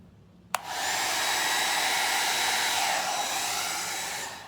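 A hair dryer on the hot setting kicks on with a click and blows a steady, close whooshing roar, pushing paint across ceramic tiles in a Dutch pour, with no talking.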